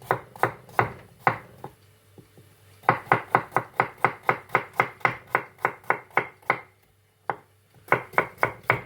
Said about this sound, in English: just cut it, rough sticks, and then the stick into thin slices